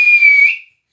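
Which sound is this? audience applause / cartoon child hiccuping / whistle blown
whistle blown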